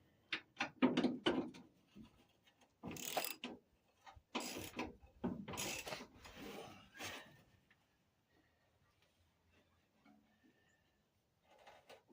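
A hand ratchet wrench is worked in bursts during patch-panel welding on a car body, giving clicking metallic ratcheting strokes with pauses between them, fairly close, then fading into near silence.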